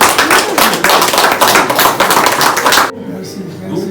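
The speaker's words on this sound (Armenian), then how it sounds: "ես ուզում եմ, որ այստեղ բոլորը հիմա ծափահարեն" An audience applauds at a book launch, a loud, steady burst of many hands clapping close by that stops abruptly, leaving quiet room tone.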